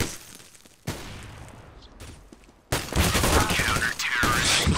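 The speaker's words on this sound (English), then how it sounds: "He just walked into gunfire, not knowing where." Rapid bursts of gunfire in Counter-Strike: Global Offensive crackle loudly in a busy mix, quieter at first and then a dense, sustained barrage in the second half.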